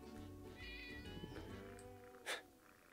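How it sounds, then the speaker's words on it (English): A realistic cat meow comes from Gary the snail in the SpongeBob Battle for Bikini Bottom video game, a drawn-out tonal meow followed by a short sharp sound effect, quiet against faint game background. "It's weird actually hearing like an actual cat sound come out of Gary and not just like the standard one"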